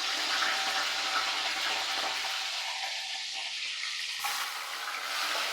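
Squeezed vegetables hit hot oil in a pan, raising a loud, steady hiss that fills the whole stretch and drops back suddenly near the end.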